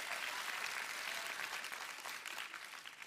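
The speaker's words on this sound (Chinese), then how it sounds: "再不鼓掌他就完了" An audience at a televised Chinese crosstalk comedy show bursts into applause, a dense wash of clapping that holds steady for about three seconds and eases slightly at the end, heard at moderate distance.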